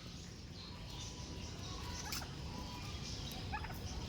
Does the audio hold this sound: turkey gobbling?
yes